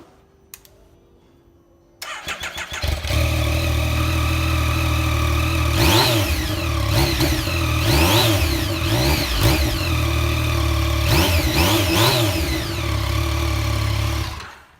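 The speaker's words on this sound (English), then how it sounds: "I'll start it up so you can have a little listen to it" A 2016 Yamaha MT-09 Tracer motorcycle engine cranks and fires after a brief quiet moment, then idles steadily and loudly with a few throttle blips before it cuts off.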